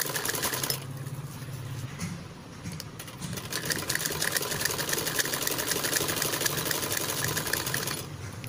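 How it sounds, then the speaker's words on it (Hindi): A sewing machine stitches a blouse, its motor running in a steady rapid whir with a fast needle rattle, briefly pausing then starting again, close and loud with no talk. "तो इसी प्रकार थोड़ा सा इसको आगे निकाल दिया है और स्टिचिंग स्टार्ट करते हैं"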